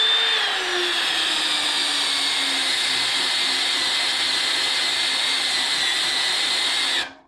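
A spot weld cutter drills out spot welds on a car core support, a loud, steady high-pitched whine that runs unbroken for about seven seconds before spinning down and stopping.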